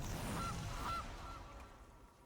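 A goose honks twice in quick succession, loud and close, as the Goose card is played in the digital card game MTG Arena, over a low steady game backdrop.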